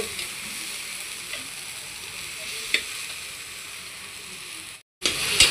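Garlic, chili powder, turmeric and cumin frying in hot oil, giving a steady soft sizzle with faint stirring clinks, a sudden brief silence near the end, then the sizzle returning louder.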